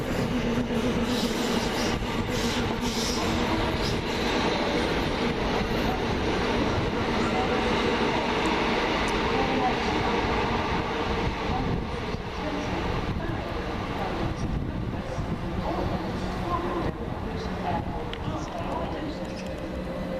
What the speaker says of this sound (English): I do hear a Gatwick over there somewhere